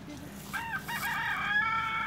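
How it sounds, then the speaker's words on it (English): A chicken on a trail, heard as a near rooster crowing in one drawn-out call with clucking tones, loud and clear over quiet outdoor background. "Chicken!"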